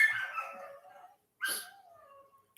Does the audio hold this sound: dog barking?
yes